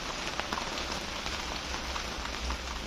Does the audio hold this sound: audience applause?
no